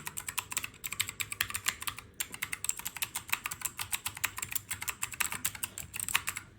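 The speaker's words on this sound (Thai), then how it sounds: "สำหรับตัวนี้นะ บูสวิตนะคะ ก็จะกดเสียงดัง ลั่นสะใจเหมือนเดิม" Fast, continuous typing on an MK61 mechanical keyboard fitted with loud blue switches: sharp, clicky keystrokes rattling close up in quick bursts, with a brief pause, and no voices.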